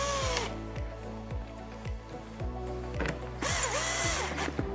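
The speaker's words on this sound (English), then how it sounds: "Replace the piston and begin replacing the screws." A power drill drives screws into a commercial water treatment valve, with repeated short bursts of whirring motor that speed up and stop, interspersed with brief ratcheting clicks, close and loud throughout with no talk.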